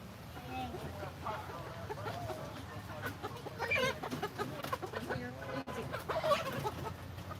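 Chickens cluck in a pen among rabbits and quails at a roadside yard sale, their clucks faint to moderate and scattered through a busy outdoor bustle, with people talking over them.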